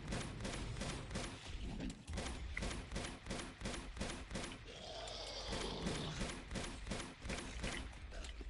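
Rapid bursts of gunfire in the video game Uncharted 2, dense repeated shots in quick rhythmic volleys with a brief lull partway, fairly faint and continuous.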